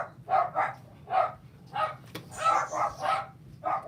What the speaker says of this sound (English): My dogs are going to bark.